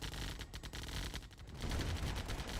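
Minigunner machine gun fire in the real-time strategy game Command & Conquer Remastered, with rapid overlapping bursts of gunfire rattling continuously at close range.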